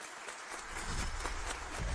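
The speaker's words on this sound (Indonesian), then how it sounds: "mari kita berikan tepuk tangan yang meriah" Applause as a contestant takes the stage at a competition, rising from quiet into a loud, steady clapping from a crowd over two seconds.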